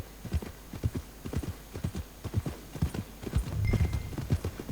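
Horse hooves clip-clop steadily in Red Dead Redemption 2, a brisk, even rhythm of close, fairly loud hoofbeats with a few soft extra thuds near the end.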